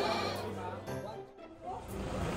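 Goats bleat on a Philippine goat farm, several wavering cries overlapping within a busy, noisy outdoor setting, with voices mixed in.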